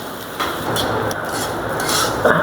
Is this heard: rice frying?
yes